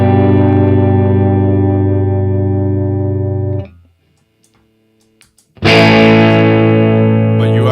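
Electric guitar played through a Valeton Comprince compressor pedal, a sustained chord ringing for several seconds before fading to near silence, then another chord struck loud and sustained; no talking.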